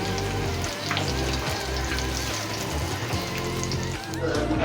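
Egg koftas fry in hot oil in a pan, a continuous crackling sizzle, close and steady, with a low hum and tonal background sounds running underneath.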